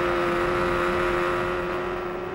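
A 1993 Indianapolis 500 IndyCar engine drones loud and steady at high revs as the car backs off through the turns and returns to the throttle, with no talk over it.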